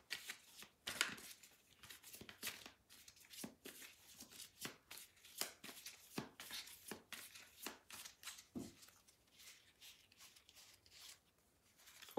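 Tarot cards are shuffled by hand close up, a quiet, steady run of soft riffles and flicks with small taps, alone with no talking.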